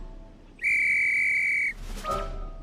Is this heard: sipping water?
no